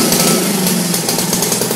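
A Honda lawnmower engine freshly fitted with a repaired carburetor runs steadily and loudly, with a rough, rapid pulsing chug throughout and no talking.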